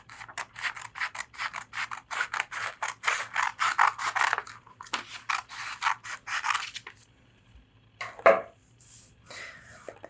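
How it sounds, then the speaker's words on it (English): Scissors cutting along a creased line in paper, a series of quick rustling snips in bursts, followed by a pause and a few louder crinkles of paper handling nearby. "Make this fold with a crease, and then cut along this line."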